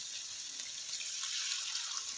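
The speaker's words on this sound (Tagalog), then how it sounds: "Nilagyan ko ng tubig." Water poured into a stir-fry in a cooking pot to turn it into soup, a steady close splashing rush that runs unbroken and fairly quiet with no talk.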